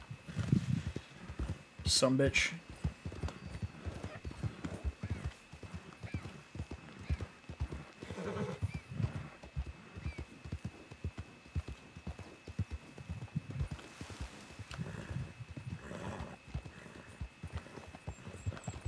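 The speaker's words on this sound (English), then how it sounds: "Shut up, horse." Horse hooves clip-clop steadily throughout in Red Dead Online, with a loud whinny near the start, while someone talks over the trotting.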